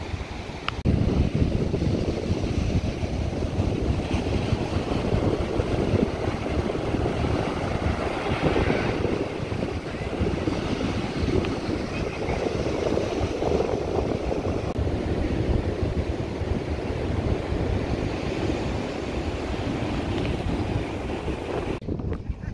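Surf and wind wash continuously over a beach in Hachinohe, Japan, a dense, rumbling roar of breaking waves with gusty microphone buffeting and no voices.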